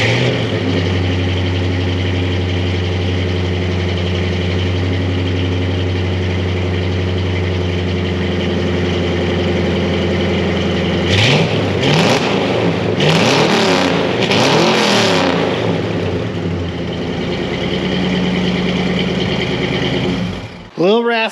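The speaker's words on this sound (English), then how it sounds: "I'm gonna put you on a stand and fire this thing up." A Lincoln Mark VII LSC engine, a rare field find, idles on a stand with a steady raspy drone, then blips through several sharp revs before settling back, all close and loud.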